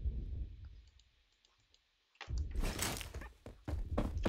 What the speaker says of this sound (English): let me just equip for my secondary weapon. A M1911.